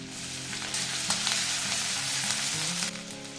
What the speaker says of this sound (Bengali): প্রথমে আমি একটু সর্ষের তেল দিয়ে দেবো তেলের মধ্যে প্রথমে দিয়ে দেবো রসুন কোটা